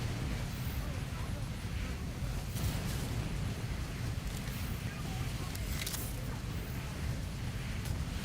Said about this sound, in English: Do you hear the flamethrower still going off?